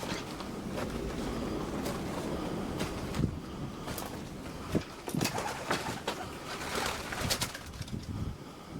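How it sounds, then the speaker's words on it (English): A pigeon coos several times, soft and fairly close, among rustling and scattered knocks in what seems to be an abandoned building's first floor. "Pigeon."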